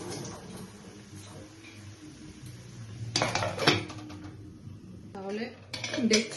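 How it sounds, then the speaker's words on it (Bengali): A lid lifted off a pan of paneer curry cooking with poppy seed and sesame, a bright metallic clatter and scrape, followed by a few lighter clinks, with someone talking in between. "তাহলে দেখছি ঢাকনা তুলে"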